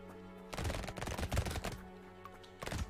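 Rapid bursts of SMG fire from the video game Brotato, dense clustered shots in two main volleys with a short gap, over steady background game music.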